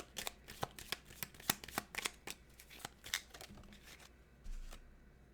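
Tarot cards are shuffled in a quick series of crisp riffling bursts and soft slaps, close and fairly quiet, with a brief low thump near the end and no talking.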